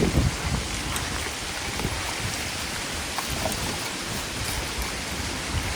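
Light drizzle falls in a continuous, even hiss of fine raindrops, steady and moderately loud throughout, with no voices.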